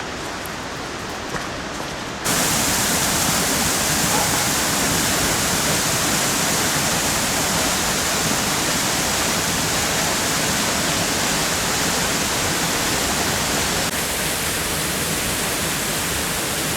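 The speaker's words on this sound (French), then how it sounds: "Elle est belle cette cascade de tuque là. Ça sort de la roche." A waterfall in the Chartreuse mountains pouring out from the rock, a loud, steady broadband rush that starts abruptly and continues without a break.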